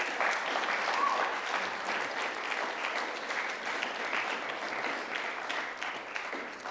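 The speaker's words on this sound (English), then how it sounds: "Huge round of applause" A large audience at a Year 12 valedictory ceremony applauds its award winners, a full sustained round of clapping that swells early and carries on evenly for several seconds.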